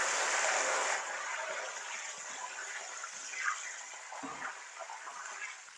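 Salt and turmeric water poured into hot oil with frying raw banana chips, giving a loud burst of hissing spatter that settles into a steady bubbling sizzle with a few small pops.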